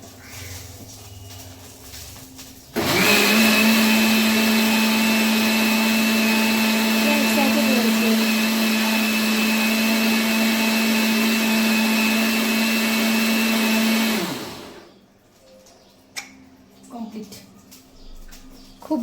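A mixer grinder grinding spices in a home kitchen starts abruptly, holding a loud, steady high-pitched whine for about twelve seconds before winding down, with quieter room sounds and voices before and after.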